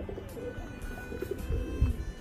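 A male crested Arabian pigeon coos softly over a low rumbling background, with a few faint murmured coo notes, one slightly louder near the end.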